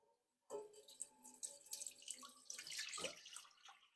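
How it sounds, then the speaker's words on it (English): Elderberry liquid pours into a pot after a brief silence, a close, steady splashing stream that swells and gurgles for a few seconds. "So I'm going to pour it into a pot and measure the temperature."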